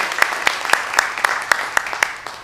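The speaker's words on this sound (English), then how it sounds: "kindly give a huge applause to welcome Shazia Ilmi" Rhythmic clapping from an audience welcoming a speaker at a business chamber women's wing event, with sharp evenly spaced claps over a dense applause wash.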